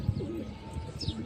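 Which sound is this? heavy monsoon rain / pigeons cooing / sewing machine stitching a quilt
pigeons cooing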